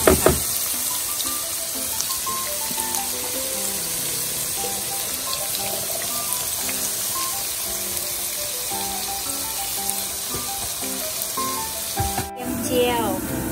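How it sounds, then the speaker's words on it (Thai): Garlic, skins included, fries in oil for shrimp and shiitake congee, giving a steady, even sizzle throughout over a faint tonal background. "ทีนี้จะพามาทำกระเทียมเจียวนะคะ เอาไว้ใส่ข้าวต้มค่ะ"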